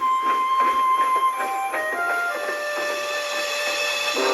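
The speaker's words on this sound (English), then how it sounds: "Percy watched Thomas and the circus slowly chuff away." A cartoon steam locomotive, Thomas the Tank Engine pulling a circus train, chuffing away with a continuous mechanical rumble and shifting whistling tones, loud and constant throughout.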